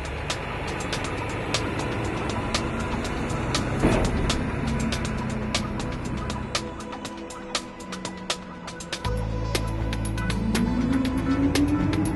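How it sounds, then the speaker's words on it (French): Garbage collection truck with a mechanical arm emptying a bin into its hopper, a loud engine and hydraulic whine with clanks and knocks, rising mechanical groaning near the end. "Les citoyens placent les matières pêle-mêle dans le bac qui est vidé à l'aide d'un bras mécanique."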